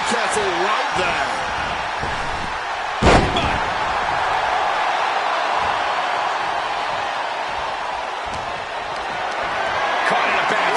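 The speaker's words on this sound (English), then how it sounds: "Slammed down hard." A wrestler crashes onto the mat in the WWE 2K26 game, one loud thudding impact early, then a sustained crowd roar carrying on underneath.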